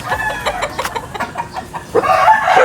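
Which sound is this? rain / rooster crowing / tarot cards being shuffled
rooster crowing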